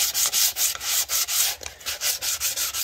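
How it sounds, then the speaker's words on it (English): Steady rhythmic sanding strokes scrape back and forth on a plastic 1:650 scale U.S.S. Enterprise model, close and continuous, each pass a brisk rasp with a brief pause between. "give this old lady a smooth sanding all the way around"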